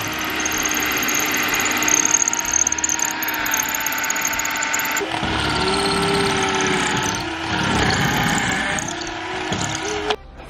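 Electric drill fitted with a 6 mm bit boring a larger hole for wall plugs while a pool clothesline is installed, a loud steady whine close by that shifts pitch as it bites, continuous with no talk.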